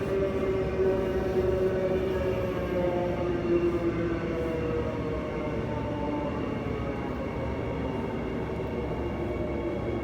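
A Transperth B-series electric train runs steadily on its Perth to Butler line, a continuous loud rumble and whine of wheels and motors with faint tonal hums, heard from inside the carriage throughout.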